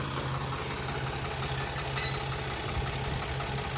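A tractor engine idles steadily at a rural home, a continuous low mechanical hum with a faint rhythmic knock, heard alone at moderate distance without talk.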